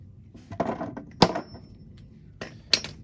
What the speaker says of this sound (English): just hammer in.